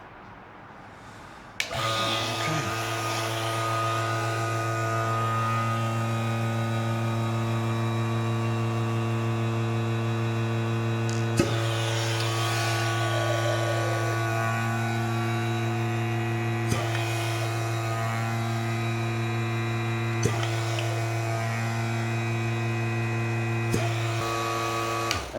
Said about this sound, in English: I'm gonna do a last vacuum check of all the ports